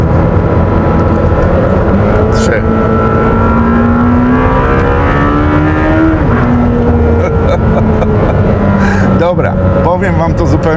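Lamborghini Temerario V8 revving toward high rpm and dropping through downshifts, a loud, shrill engine tone sliding in pitch with sharp blips near the end, heard from inside the car.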